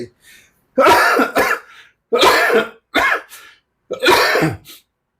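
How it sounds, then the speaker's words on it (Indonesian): Several harsh, loud coughs in separate bursts, close up, with short silent pauses between them and no talking. "Saya batuk pun tetap tershoot di video"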